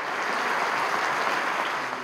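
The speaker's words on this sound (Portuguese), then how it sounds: "Sérgio Moro foi aplaudido de pé pelos 580 empresários que participavam do encontro" A hall of 580 business people gives a standing ovation, steady dense clapping filling the room without a break.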